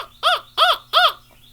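A man imitates a northern crow call by voice in rural southeast Georgia, giving three loud, evenly spaced harsh caws close to the microphone, with no other sound between them.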